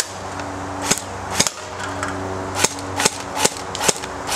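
An airsoft gun fires at targets in a sequence of about ten sharp snapping shots, some spaced and some quick pairs, close and fairly loud against a quiet background.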